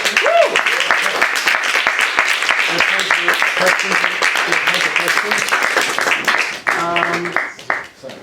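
Crowd applause with dense clapping fills the room while voices talk and cheer over it, fading toward the end.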